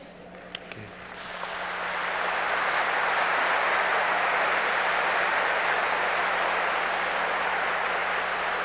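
Church congregation applauding, a broad sustained clapping that swells in over the first two seconds and then holds steady and dense, loud and without speech.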